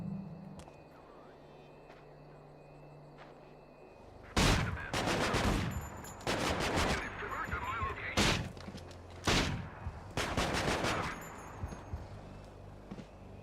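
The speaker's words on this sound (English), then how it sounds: "Shotgun, shotgun, shot." Shotgun blasts in the stealth game Manhunt, a quiet ambient lull followed by about five loud, separate booming shots spaced a second or two apart, each with a short rumbling tail.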